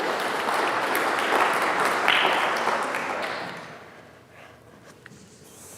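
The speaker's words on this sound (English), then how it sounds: "So clap with the trees for yourselves" Audience applause at a faith talk on ecology and creation, a steady broad wash of many hands clapping that holds for about four seconds, then thins out and fades to scattered claps.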